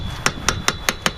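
A hammer taps on a swing set being repaired: five sharp, evenly spaced knocks about a fifth of a second apart, close and crisp over a quiet background.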